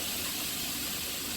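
Two cups of water poured into a pot for seasoned rice, a steady, even rush of liquid, fairly soft and heard alone without talk.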